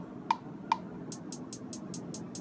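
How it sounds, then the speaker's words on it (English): Trap hi-hat pattern on a GarageBand sampler: two soft clicks, then a quick even run of seven crisp, bright hi-hat hits, quiet and alone. "Now I can record the two-step hi-hat pattern by just clicking on one note continuously"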